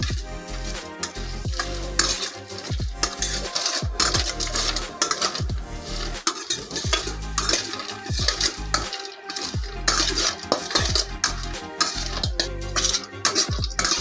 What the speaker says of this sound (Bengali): একাঙ্ক্ষিটা আমি মোটামুটি লাল লাল করে ভেজে নিয়েছি